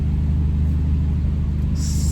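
Audi A3 8P with a 2.5-inch exhaust idling, a low steady droning rumble, even and continuous throughout, with no voices over it.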